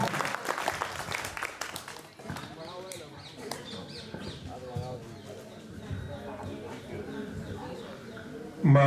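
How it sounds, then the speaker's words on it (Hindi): An audience at a school poetry gathering claps for a poet, with a burst of applause at the start before a voice takes over and continues for the rest. "ठहाका सम्राट डॉक्टर सुरेंद्र यादव जी के लिए जोरदार तालियां, स्वागत, अभिनंदन।"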